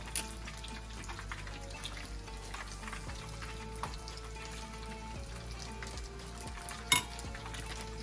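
A mustard, olive oil and mayonnaise dressing with a squeeze of lime being stirred together, a steady wet scraping and sloshing that runs throughout, with one sharper clink near the end.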